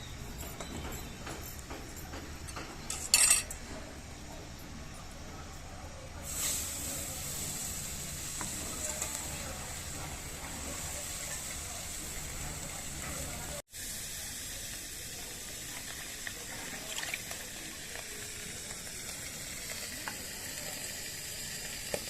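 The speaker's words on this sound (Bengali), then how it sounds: "মাছ ভাজা হয়ে গেছে, হালকা তেলে আমি মাছ ভাজছি" Pabda fish frying in light oil, a thin steady sizzle running under occasional clinks and knocks of utensils, with a brief break midway and a louder rush of hiss partway in.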